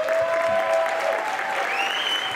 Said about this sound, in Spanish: Que les pido un gran aplauso para mi abuelo,